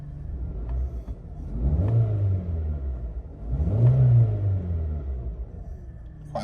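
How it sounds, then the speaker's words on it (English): A 2019 MG3 1.5 VTi-TEC four-cylinder engine in a small hatchback revs twice in neutral from a steady idle, each rev rising in pitch and dropping back, heard close and alone. "Let's just give it a quick rev,"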